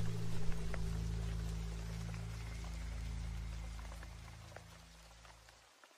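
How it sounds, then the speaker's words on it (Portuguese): Steady rain falls hard and close in a storm, with scattered drops tapping on surfaces before the downpour fades away at the end. "até que chove assim como hoje"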